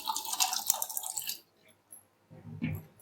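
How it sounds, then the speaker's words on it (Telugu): Water is poured over soaked legumes in a pressure cooker, a loud, bright splashing stream up close that stops abruptly midway, followed by a few faint clinks and a short low rumble. "కొంచెం వాటర్ యాడ్ చేస్తాను"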